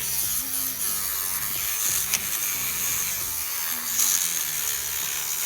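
Steady bristly scrubbing of a toothbrush cleaning a car part, with a faint mechanical buzz, close and quiet, continuing without pause.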